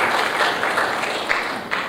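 A seated audience gives a round of applause at an air cargo industry conference, a steady dense wash of many hands clapping together, fairly loud and continuous with a few sharper claps standing out.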